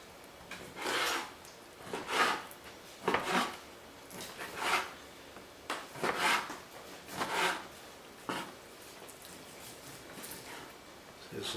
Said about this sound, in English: So you cut it thinly like this, and then you put it in a clump like this